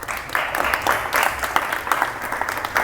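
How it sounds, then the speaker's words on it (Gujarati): A crowd of devotees at a temple patotsav celebration in Surat claps to honour a host, brisk rhythmic applause with uneven bursts, carrying on steadily at moderate loudness. "આ કાકા છે, તાળી પાડો બધા."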